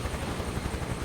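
A Huey helicopter flies in MS Flight Sim 2024, a loud steady rotor thump over a dense engine roar for about a second, with no talk.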